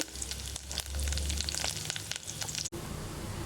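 Cumin, fenugreek, fennel, asafoetida, curry leaves and dried red chillies crackle and sizzle in hot oil for a sambar tempering, a dense close spatter that cuts off abruptly near the end.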